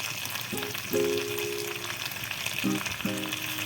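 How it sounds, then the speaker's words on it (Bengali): Chicken pieces and pointed gourd being stirred through a spice masala in a pan, a soft close sizzle broken by a few short squeaky scrapes of the spoon against the pan. "চিকেন আর পটলগুলোকে 1 মিনিট ভালো করে নাড়াচাড়া করে নিয়েছি মশলার মধ্যে"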